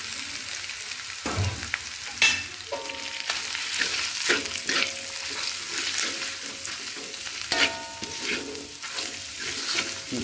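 Chili and spice paste sizzle in a hot pan for jackfruit curry, a steady frying crackle broken by repeated scraping stirs of a utensil against the pan.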